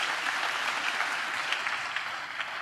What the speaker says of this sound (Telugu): చప్పట్లు కొడుతూ దేవునికి స్తోత్రాలు.